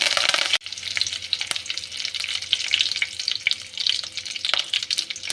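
Mustard seeds, cumin and curry leaves hitting hot oil, a loud crackling sizzle that bursts in abruptly and continues with sharp spitting pops, close up and without voices.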